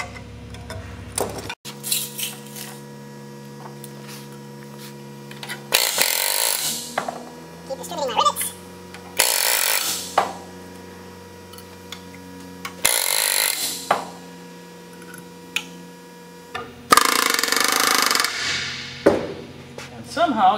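Pneumatic rivet gun driving rivets into aircraft aluminum sheet metal on an A&P training project, firing in several loud bursts of rapid hammering separated by pauses, with a steady tonal hum running underneath.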